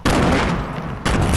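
Video game gunfire rattles in loud, continuous bursts, a dense volley that pauses briefly before resuming.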